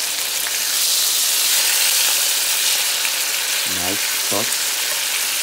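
Chicken breast searing in a hot pan for orange chicken, a loud, steady sizzle and hiss running throughout while a voice speaks briefly near the end.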